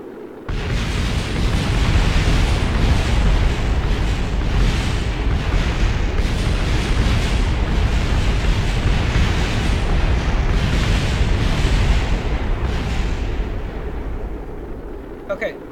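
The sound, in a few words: rocket exploding in video game Kerbal Space Program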